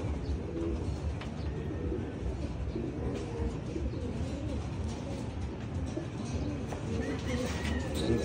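Soft bird calls and coos come and go over a low, constant background rumble, faint and somewhat distant.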